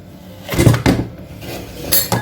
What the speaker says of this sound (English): So I'm gonna get my pot over this side, my pot with my strainer